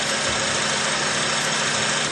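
A car engine tuned with fuel trim adjustments to burn less fuel runs steadily at close range, a loud continuous broadband roar and hum without pause and no talking.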